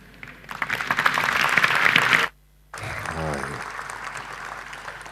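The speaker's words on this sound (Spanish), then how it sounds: "Con este aplauso le agradecemos a Claudio Vedano por esta presentación" An audience applauds after a presentation at a soil biology symposium, lively clapping for about two seconds, then a brief cut to silence before applause resumes more softly with a voice briefly audible beneath it.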